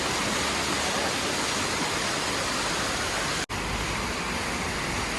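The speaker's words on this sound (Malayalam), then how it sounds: "വെള്ളം ഒഴുകി അതിൻ്റെ ഉള്ളിലേക്കാണ് പോണത്." A waterfall near Munnar town gives a steady, loud, unbroken rush of falling water from start to end, with no voices over it.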